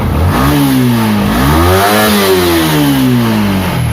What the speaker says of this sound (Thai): รู้สึกว่าเร่งดี ครับเร่งดู